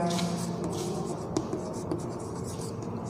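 Pen scratches across paper while a math expansion is written out by hand, a soft close-up rubbing and scraping with faint taps against a quiet room hum.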